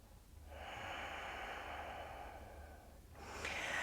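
One slow, audible breath is drawn and released during a yoga pose in a vinyasa flow. It is soft and close, with a second breath starting near the end and no talking.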